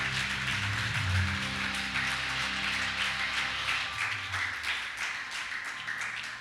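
A church congregation breaks into sustained applause, a dense, steady wash of many hands clapping at moderate volume over a low, humming background tone.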